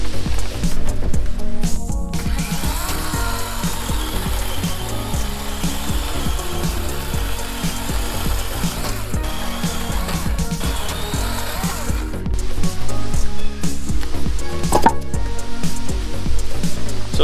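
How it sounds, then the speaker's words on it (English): Chainsaw cutting through a dense beech log on a sawhorse, a loud, continuous engine whine that holds steady as the chain bites through the wood, close up and without talking. "This is a beech log that I'm cutting up, and really, the chainsaw does a pretty good job."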